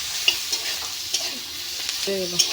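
Bottle gourd shoots frying in a pan with panch phoron make a soft steady sizzle and hiss, broken by sharp spatula taps and scrapes against the metal, with a faint clink near the end and no one talking.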